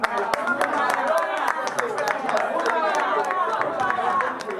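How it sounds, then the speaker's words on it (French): At a press conference for a comedian, an audience claps in a dense, continuous patter with a few sharper claps standing out near the listener, and people talk and chatter over it throughout. "est-ce qu'on peut au moins applaudir encore ce"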